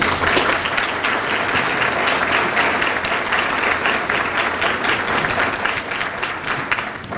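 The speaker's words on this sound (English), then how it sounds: "So give yourselves a round of applause." An audience at an awards evening bursts into dense, loud applause that carries on without a break for over seven seconds, with no talk over it.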